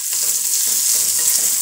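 Ivy gourd and capsicum chutney ingredients with a little tamarind sizzle steadily in a hot frying pan as they are stirred, a continuous close hiss of frying with no voices.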